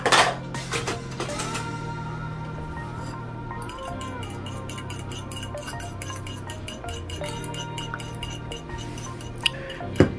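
Honey is stirred into a BBQ rib glaze in a bowl, giving soft clinks and scraping of a utensil against the dish, with light tapping and a few sharper knocks toward the end, fairly quiet.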